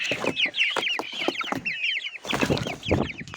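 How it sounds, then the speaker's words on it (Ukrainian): Chickens cluck close by in a poultry yard, a busy run of short, pitched clucks and squawks in overlapping bursts with a brief pause in the middle, and no one speaking. "Оця, ну це то гарна курка."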